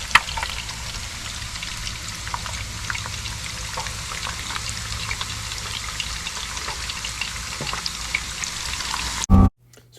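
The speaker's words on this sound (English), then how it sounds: "And it is really raining." Steady rain patters on a canvas wall tent with a wood stove inside, a dense continuous hiss with scattered drips, close and even for nearly the whole stretch before cutting off abruptly.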